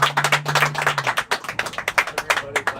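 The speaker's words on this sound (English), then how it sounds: "Clap it up for Home Alone." Audience clapping at an event, close and fairly loud with uneven individual claps at a quick rhythm, while a voice is heard briefly at the start.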